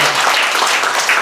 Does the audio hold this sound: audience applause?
yes